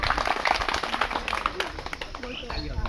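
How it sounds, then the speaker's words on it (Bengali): Villagers clap in a quick, uneven patter before a tug-of-war final, with voices talking over the clapping throughout. "হাততালি হোক"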